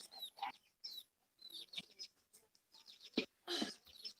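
Backyard homestead chickens make short clucks and chirps in scattered bursts, fairly close and moderately quiet, with brief pauses between calls.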